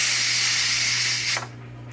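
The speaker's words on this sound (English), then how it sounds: "We're going to let some steam out. I'm going to let it out a little bit at a time." Steam hisses loudly and steadily from the release valve of a pressure cooker cooking ham and bean soup, a continuous bright rush that suddenly cuts off near the end, leaving a low hum.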